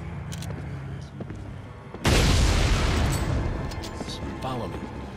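Heavy gunfire erupts suddenly in Resident Evil 4, a loud burst of shots and booms that crashes in mid-clip and keeps rumbling, rattling and fading over the following seconds, with a voice speaking faintly underneath.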